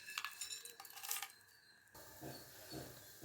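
Cinnamon and cloves spluttering in hot oil, a light crackling sizzle close by with a few metallic pan clinks at the start, faint and without talk.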